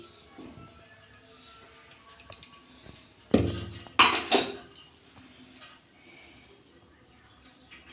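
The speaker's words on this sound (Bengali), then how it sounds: "আমি ঢাকনা খুলছি দেখুন কত সুন্দর হয়েছে" A lid is lifted off a cooking pot holding an eggless vegetarian cake baked on a low flame at home: a few sharp metallic clanks and rattles near the middle, with quiet kitchen background before and after.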